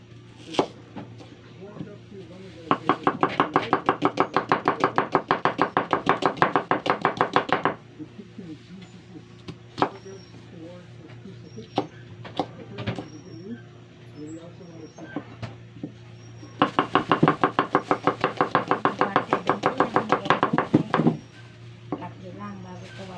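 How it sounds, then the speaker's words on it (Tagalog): A knife chops an onion on a board in two long bursts of rapid, steady knocks, close and loud, with scattered single taps between them and a low constant hum underneath. "Atin pong hiwain tong sibuyas"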